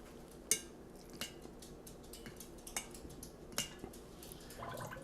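Hard apple cider being stirred with sugar syrup: sparse, faint clinks and taps of a utensil against the vessel, scattered irregularly over quiet background.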